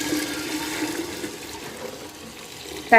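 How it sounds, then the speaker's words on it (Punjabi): Hot water rushes and splashes steadily into a pot of chickpeas for boiling, a continuous watery pour at moderate volume with no voices. "ਹੁਣ ਇਹਦੇ ਵਿੱਚ ਪਾਣੀ ਐਡ ਕਰਾਂਗੇ"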